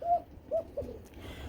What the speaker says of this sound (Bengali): কোকা কবুতর হিসাবে ডাকটা কেমন এটা শুধু কমেন্টে জানাবেন